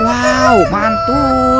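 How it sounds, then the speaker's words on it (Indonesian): A toy rooster gives an electronic crow, close and loud, with a long rising-and-falling call that breaks once and resumes. A person's brief exclamation overlaps it. "Dan ini ada ayam berkokok."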